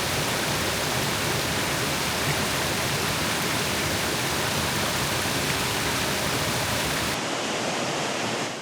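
Naked Creek Falls in Shenandoah National Park pours in a steady, close, full-bodied roar of rushing water that holds constant throughout, dulling slightly near the end.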